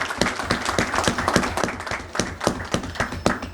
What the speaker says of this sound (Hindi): मैं बजा तौर पर तालियों की गूंज में बाबर साहब को, खिदमत ग्रुप को मुबारक देता हूँ